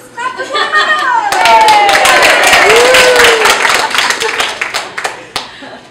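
A live audience at a vegan game show event claps for a contestant, a loud, dense burst of close clapping with cheers and voices mixed in, swelling quickly and fading near the end.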